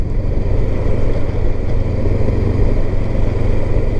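A Honda CB500X motorcycle engine runs close by at a steady, loud idle, a continuous low throbbing rumble that holds level throughout with no change in pace.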